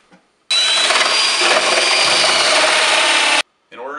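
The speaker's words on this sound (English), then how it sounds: "we're gonna take our drill and we're gonna go ahead and break out the mortar" A power drill grinds out mortar between the bricks of a fireplace in one loud, continuous burst of about three seconds, with a voice briefly heard after it stops.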